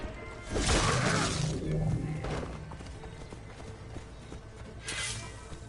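Horse hooves clatter at a gallop in the video game Assassin's Creed Origins, a loud burst of rapid clip-clop that fades, returns briefly, then trails off under game ambience.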